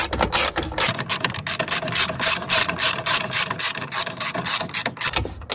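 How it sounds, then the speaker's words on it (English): A ratchet tightens a nut onto a control arm bolt during a lower suspension wishbone replacement on a Volvo XC60, giving a close, steady run of rapid metallic clicks with brief pauses between strokes. "I'm gonna screw it with the nut on the top."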